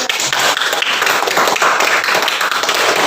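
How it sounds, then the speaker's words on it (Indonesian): A room of students claps for a group during a classroom lesson, a steady, loud burst of applause with no pauses. "beri aplaus dulu untuk kelompok"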